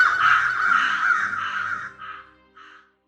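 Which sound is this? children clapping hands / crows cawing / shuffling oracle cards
crows cawing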